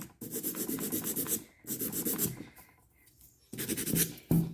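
Acrylic nail with clear-powder-encapsulated flowers being filed and buffed by hand, three bursts of steady scratchy rubbing strokes separated by short pauses, close and fairly loud.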